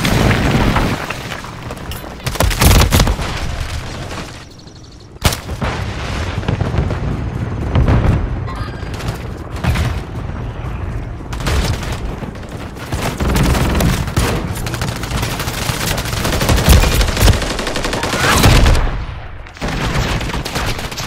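Light machine gun fire in the video game Call of Duty: Modern Warfare 3. Dense, loud automatic bursts run almost nonstop, with booming explosions mixed in and a few short gaps between the volleys.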